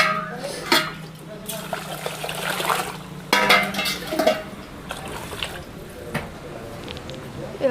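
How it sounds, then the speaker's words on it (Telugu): Rice is rinsed by hand in water in a pot in a village kitchen, with irregular splashes and sloshing and a few sharp clinks of the vessel, close by and moderately loud, with faint voices in the background. "బియ్యం అయితే కడిగేసి పెట్టేస్తున్నాను"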